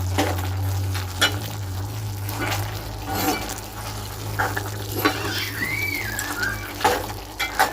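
Goat meat sizzles and fries in a pot for Jamaican curry goat, a steady close crackle with occasional stirring scrapes and no talk.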